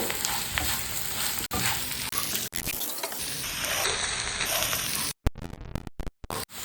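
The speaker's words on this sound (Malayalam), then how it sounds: "ഇപ്പം നമ്മുടെ കോവയ്ക്കൊക്കെ നന്നായിട്ട് ഫ്രൈ ആയിട്ട് വന്നിട്ടുണ്ട്" Ivy gourd frying in a pan with garam masala and salt, a loud continuous sizzle close up, with brief stirring noises and a few abrupt dropouts near the end.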